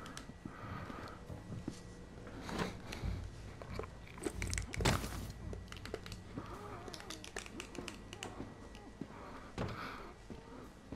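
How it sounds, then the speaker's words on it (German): A zombie in The Walking Dead: Saints and Sinners chews and squelches wetly, repeated crunching bites and slurps at close range, irregular and fairly quiet, with a few louder crunches in between. "Ich höre noch wen knatschen."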